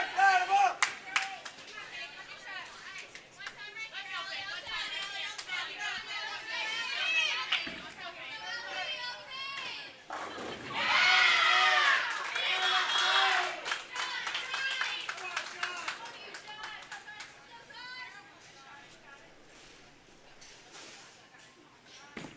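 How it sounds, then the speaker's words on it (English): Crowd cheering and clapping at a Southland Bowling League championship, busy applause and excited shouts that swell in the middle and fade, with talking throughout. "We got folks cheering."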